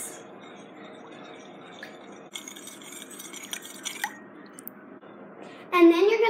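Borax and water stirred together in a mixing bowl for glue slime, giving soft wet squishing and clinking sounds that end in a louder, sloshing stretch, with talking in places.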